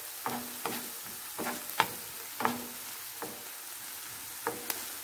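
Herbs (coriander and parsley) are stirred in a frying pan, with soft scraping strokes every half second or so over a steady low sizzle, close and quiet, no talk.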